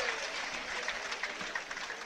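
Audience applause at a pony show-jumping final as a rider leaves the arena, a steady, moderately distant patter of clapping held at an even level for a couple of seconds.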